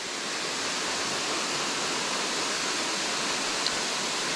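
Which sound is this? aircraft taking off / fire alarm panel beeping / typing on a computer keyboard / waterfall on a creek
waterfall on a creek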